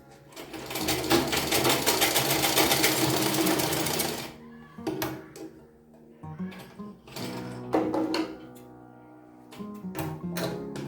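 Sewing machine stitching a blouse, a fast rapid chatter running for about four seconds, then shorter stop-start bursts of stitching with handling noises between.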